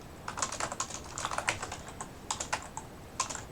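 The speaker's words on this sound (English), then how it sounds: "I keep typing the wrong character." Fast, irregular keystrokes on a computer keyboard while coding a binary tree program, a steady run of close, light clicks in short bursts with brief pauses and no talking.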